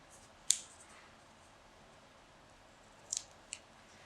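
Scissors snipping the edges of a paper flower petal: a sharp single cut near the start, then a quick double snip and one more short snip after a quiet pause, close and crisp.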